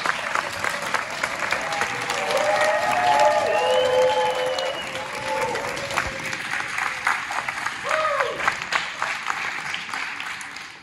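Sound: audience applause at an award ceremony

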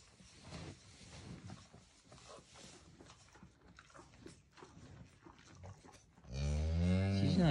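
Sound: cow mooing while giving birth

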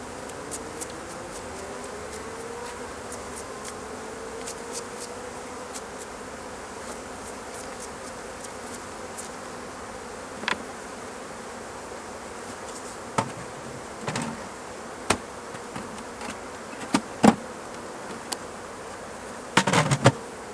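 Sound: Caucasian honeybees buzzing at hive

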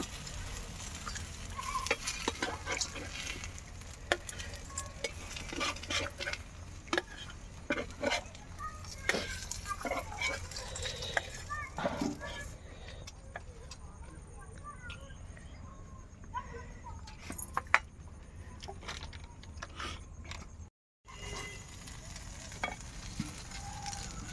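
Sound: frying fish in oil

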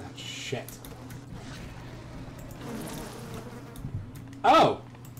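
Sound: buzzing bees in the video game BioShock

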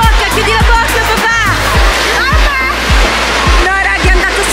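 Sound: waves splashing in an indoor wave pool at a water park

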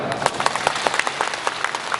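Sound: audience applause

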